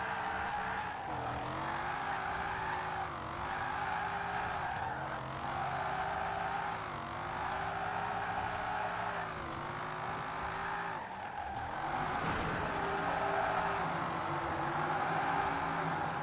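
Car engine in the racing game Forza Horizon 4, a rough, buzzing drone often likened to a tractor, revving continuously with repeated rises and drops in pitch as gears change, loud and steady throughout.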